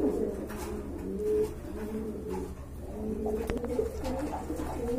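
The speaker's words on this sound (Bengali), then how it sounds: "এক জোড়া ড্যানিশ কবুতর দেখতে পাচ্ছেন" A pair of red-geared Danish pigeons cooing close by, soft throaty coos repeating steadily through the whole stretch with no talk over them.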